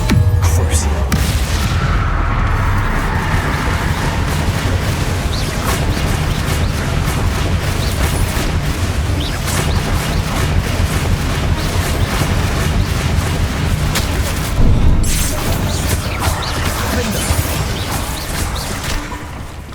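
Confringo fire spells in Hogwarts Legacy set off a dense run of heavy booming blasts and crackling debris, loud and nearly continuous, with occasional speech beneath.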